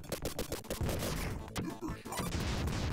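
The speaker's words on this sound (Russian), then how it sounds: "Воу! Супер выстрел." Rapid gunshots and blasts from the Sega game Vectorman 2, a dense burst of repeated firing followed by a sustained loud crash of impacts and explosions, with no voices over it.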